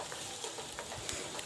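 Onions sizzle and crackle steadily in hot oil, a dense continuous frying hiss with faint stirring sounds.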